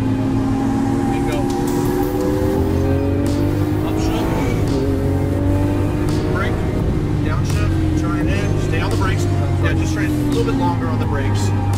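A Lamborghini Aventador accelerates hard on a racetrack, its engine roaring loud and continuous with rising pitch sweeps as it upshifts, while a voice talks over it.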